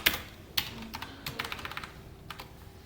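SQL query being typed on a computer keyboard during a MariaDB lesson, a close run of quick key clicks with a few louder taps and short pauses, no voices.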